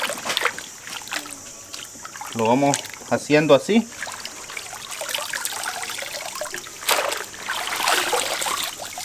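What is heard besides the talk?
radishes rinsed in a container of clean water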